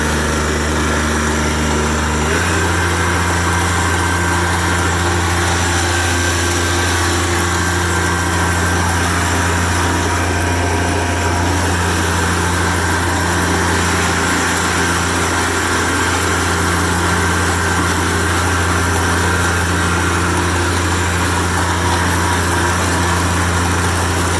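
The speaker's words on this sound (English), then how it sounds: "sucking noise is just the undercarriage for the mower deck, since I didn't take that off" Diesel engine of a 1984 Cub Cadet 882 garden tractor with the mower deck undercarriage still fitted, running steadily at a loud, even idle with a constant drone and hum throughout, no talk.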